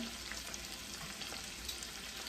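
Yellow pepper sizzles as it is added to a pan of Jamaican-style stew okra, producing a close, steady frying hiss with no talking.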